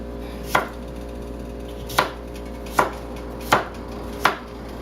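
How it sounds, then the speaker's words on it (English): A knife slices through chayote squash on a cutting board, landing five crisp, evenly spaced chops over a steady low background hum. "So while that's heating, I'll show you how to chop it. Real simple. Just cut these slices."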